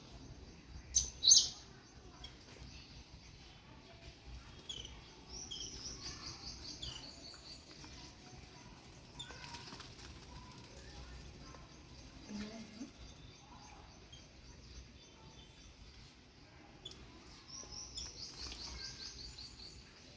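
Faint, scattered chirps and tweets of small birds bathing in a dogs' water bowl over a quiet background, with occasional soft splashes and bursts of higher twittering.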